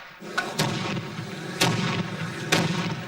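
Three loud, sharp carbide cannon booms ring out about a second apart, each a deep blast that echoes briefly before the next.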